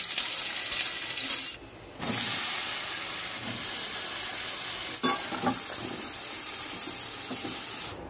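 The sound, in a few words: frying ridge gourd curry with five-spice and onion tempering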